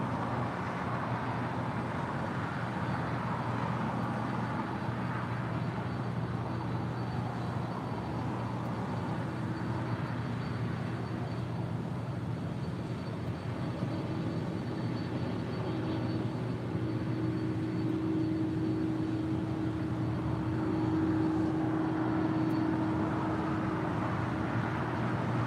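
A Boeing 767 takes off from runway 25 right at LAX, a steady, continuous broadband roar of jet engines at moderate distance, sustained throughout with a faint rising tone toward the end.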